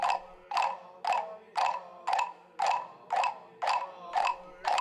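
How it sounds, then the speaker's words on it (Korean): Dozens of wooden moktak temple blocks are struck in unison at a mountain temple, giving nine loud, evenly spaced hollow knocks that ring out with no voices. "수십 개의 목탁 소리가 하나의 소리가 되어 산사에 울려 퍼집니다."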